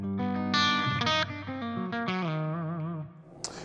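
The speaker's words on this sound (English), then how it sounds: "it's actually made by Digitech, this digital stereo reverb. It's a digital reverb here." Electric guitar with distorted chords and ringing single notes played through a Digitech digital stereo reverb on its hall setting, a long wash of tail after each note, loud and close, fading into a short pick scrape at the end.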